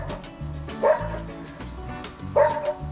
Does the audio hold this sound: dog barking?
yes